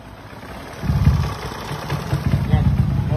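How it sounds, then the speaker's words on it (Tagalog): A Honda Wave 125 motorcycle engine with a new cam profile idles quietly with a low, steady rumble that grows louder after a moment and keeps running. "Tahimik ng makina, tignan nyo."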